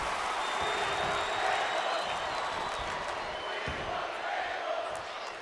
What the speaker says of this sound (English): This crowd's chanting for tables.